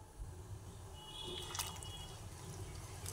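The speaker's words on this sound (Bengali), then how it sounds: "আমি এখানে 100 মিলি দুধ দিচ্ছি।" About 100 ml of milk being poured into a pot while cooking chicken polau, heard as a faint, soft liquid trickle over a low background hum.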